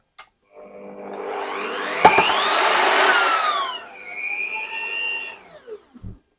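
A variable-speed drill in a knife-making shop winds up to a loud whine, eases to a lower steady pitch, then cuts off and leaves a few clicks and knocks. No one speaks.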